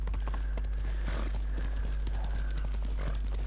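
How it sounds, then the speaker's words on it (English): Horse hooves clip-clop at a steady gallop in the samurai action game Ghost of Tsushima, with a steady low hum underneath and a brief whinny-like tone mixed in. "Faster, Kaze! Kaze! That's my horse's name!"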